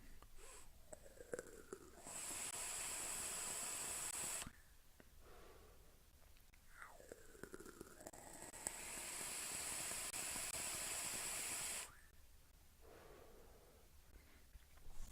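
Long exhaled puffs of vapor from a Geekvape Karma 2 e-cigarette, two extended soft hisses separated by quieter breathing and faint inhales, close to the microphone.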